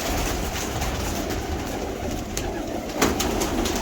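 Several pigeons coo softly and continuously in a loft, a low, steady burbling wash close by with a few faint rustles above it.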